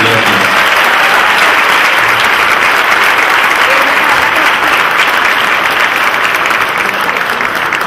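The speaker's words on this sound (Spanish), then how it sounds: "Y el aplauso final para la Dirección General de Educación en Ciencia y Tecnología del MAR." Loud, sustained audience applause fills the hall at the closing of a national science and technology congress in Tapachula, a dense, even clapping that carries on without a break.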